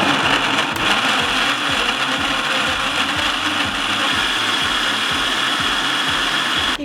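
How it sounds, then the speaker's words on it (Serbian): A blender grinds sliced tomatoes for preserving, a loud, continuous whirring motor with a rapid rhythmic churning pulse running steadily throughout. "Zatim sameljite sav paradajz u blenderu"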